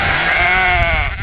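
Sheep bleating loudly and close by, a long wavering call that fills the moment alone with no talk.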